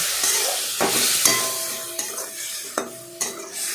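Cauliflower frying and being stirred in a pan for a Bengali fish curry, giving a steady broad sizzle with a few scraping stirs and light clinks close by, no voices.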